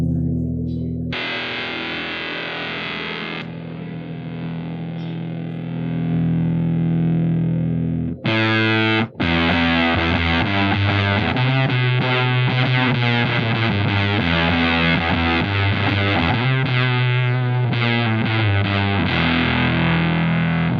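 An electric guitar runs through a Surfy Industries SurfyFuzz fuzz pedal, first as a held, saturated chord and then as busy, distorted riffing with thick sustain, loud and up close with no voices.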